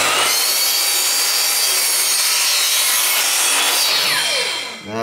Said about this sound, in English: So we want to set the saw, put it on a 45 degree angle